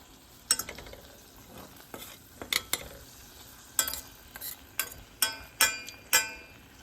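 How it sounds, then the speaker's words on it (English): Berries sizzle in a hot pan while a utensil stirs them, sharp clinking scrapes against the pan repeating irregularly over a soft frying hiss, close and without talk. "So we're gonna wait until this is sizzling. I'm gonna stir it while this is happening."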